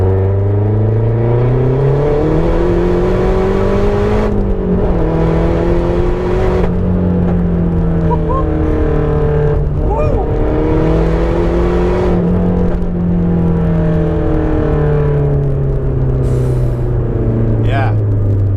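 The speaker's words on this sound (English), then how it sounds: "let's go for a little third gear pull here" A 400 BHP Mazda 3 MPS Aero edition revs hard through third gear, its loud, close engine note climbing in steady sweeps and dipping at shifts over roughly eighteen seconds, with no talk.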